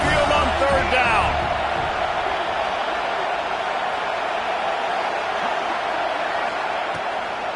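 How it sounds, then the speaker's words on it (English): Alabama football crowd roars at Saban Field during a third down against Florida State. The broad, loud, sustained stadium noise fills the whole stretch, with a voice briefly audible over it at the start. "The Tide crowd rolling noise down onto Saban Field on third down."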